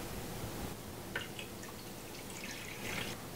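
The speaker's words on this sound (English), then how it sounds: "Next, I'm gonna be adding 1/2 cup of water." Half a cup of water is poured into crepe batter made with eggs, giving faint, soft trickling and dripping in a few brief bursts over a quiet room background.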